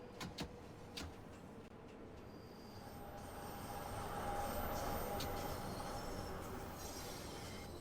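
A London Underground Bakerloo Line train in Train Sim World 2 rumbles steadily along the track, its wheels and motors swelling louder midway with a faint squeal, with a few clicks near the start.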